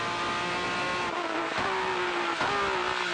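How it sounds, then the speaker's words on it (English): A Porsche GT3 Cup race car engine drones loudly during a race, its pitch stepping down through downshifts with brief dips between gears, heard from a nearby trackside or onboard position. "I love the sound of that downshift"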